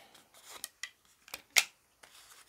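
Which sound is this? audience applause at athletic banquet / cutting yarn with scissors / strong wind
cutting yarn with scissors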